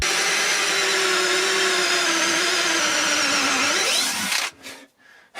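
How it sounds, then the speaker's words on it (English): A cordless power drill fitted with a hole saw bores through the metal floor of a Sprinter van, a loud steady whine and grind with the pitch shifting as it cuts, then stopping abruptly near the end. "So now we gotta go back up top and drill straight through the floor."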